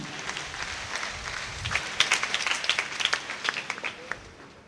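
Children at a church mass break into applause, a dense patter of many small hands that builds and peaks midway before tapering off, heard from within the congregation.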